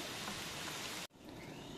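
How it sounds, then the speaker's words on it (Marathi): Heavy rain falls during a fishing trip, a loud, steady hiss that cuts out abruptly for a moment before resuming slightly softer, with no talking. "पाऊस मोठा झालाय बघा."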